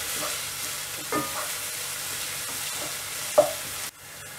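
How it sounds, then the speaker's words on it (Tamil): Onion and crushed garlic fry in oil for a field bean kara kuzhambu, with a steady low sizzle and occasional spatula knocks. A sharp clank comes before the sizzle abruptly drops away. The sound plays alone, without speech. "இதை நல்லா ஃப்ரை பண்ணணும்"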